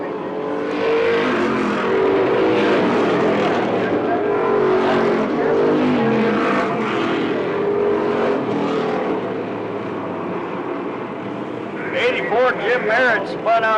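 Street stock race cars roar continuously around a dirt track, engines loud and close with passing and revving, under constant commentary from a track announcer.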